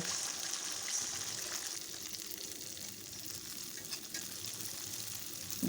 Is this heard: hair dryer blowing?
no